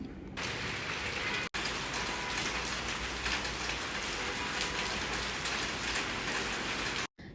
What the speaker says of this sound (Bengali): দাঁড়ান আপনাদের একটু বৃষ্টির শব্দ শোনাই